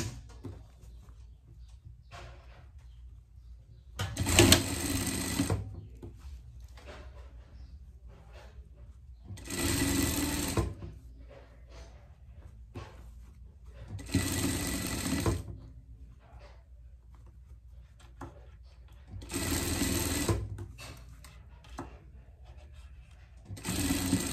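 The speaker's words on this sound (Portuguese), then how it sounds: "a gente vai passar uma costura aqui, mais uma costura" A sewing machine stitches a seam on a pet dress in four separate bursts of steady mechanical whirring. Short quiet gaps fall between the runs.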